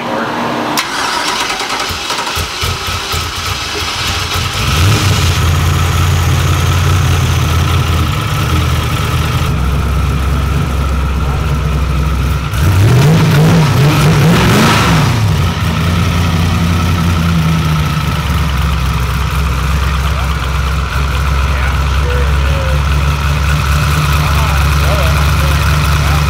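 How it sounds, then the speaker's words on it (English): An LS-swapped Oldsmobile engine cranks and catches a few seconds in, then settles into a steady, low, quiet idle that hums on to the end, with a brief rev midway. "This thing's so quiet."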